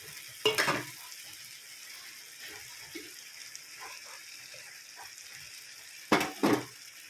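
Onion and tomato frying in oil for an egg masala gravy, a low quiet sizzle broken by a few sharp scraping stirs of the spatula against the pan, no talking.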